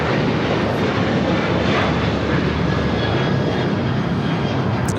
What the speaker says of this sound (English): So we have a Sun Country hybrid livery taking off on 25 left.